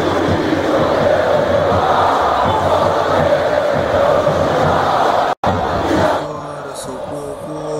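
Packed football stadium crowd in PES 2020 on PS2, a loud, continuous roar of cheering and chanting that cuts out abruptly, then gives way to a thinner, quieter stadium murmur.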